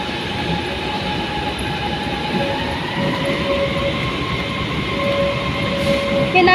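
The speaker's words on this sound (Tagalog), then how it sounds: "Papunta na yung train." An LRT train pulls into Ampang station with a steady rumble and rising whine, faint wheel squeal and clatter building as it arrives, close and fairly loud, no speech.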